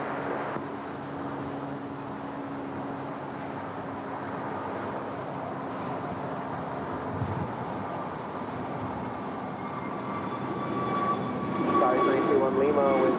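An Alaska Airlines jet at LAX gives off a steady, moderately distant engine roar that swells slightly toward the end, with a faint whine over it and talk in the background.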